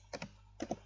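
Typing on a computer keyboard, two quick pairs of soft key clicks separated by a short pause, faint and close.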